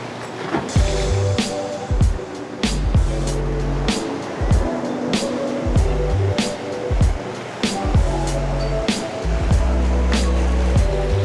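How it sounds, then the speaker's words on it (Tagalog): Strong ocean surf at Cabongaoan Beach in Burgos, Pangasinan, near a seaside cave, with waves crashing repeatedly in close, loud bursts over a constant rushing wash of water. "Kaso ang lakas ng alon talaga."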